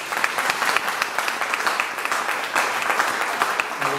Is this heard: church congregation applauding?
yes